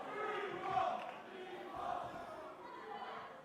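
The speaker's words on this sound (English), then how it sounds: "Man, the crowd fully behind Speedball Mike Bailey here." Wrestling crowd roaring steadily throughout a live Speedball Mike Bailey versus Ophidian match, with swelling waves of cheers and chanting that stay loud and dense across the whole stretch.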